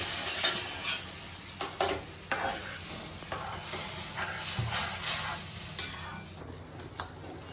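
Jaggery syrup bubbles hard in a cooking pot, a continuous hissing, spitting boil with frequent stirring clinks and scrapes over several seconds.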